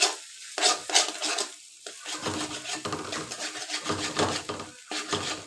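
Pasta noodles being stirred and cut in a pan, with irregular scraping and clinking strokes against a soft sizzle, fairly close and with no talking.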